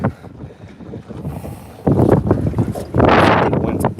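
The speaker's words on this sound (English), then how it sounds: "The wind's kind of getting pretty high" Strong wind gusts over a boat on Belews Lake, loud rumbling buffets against the microphone that swell in two heavy bursts over water and rigging noise.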